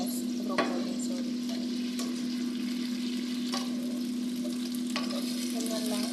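Broccoli stir-frying in a pan, a steady close sizzle running throughout with occasional scrapes and clinks of a spatula tossing the florets.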